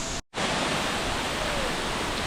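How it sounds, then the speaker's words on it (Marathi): Water pours down from above inside a cave at Baba Waterfall in Maharashtra, a loud, steady, close rushing roar that briefly drops out near the start and then continues unbroken. "आता गुफा टाईप आहे आणि वरून पाणी पडतं."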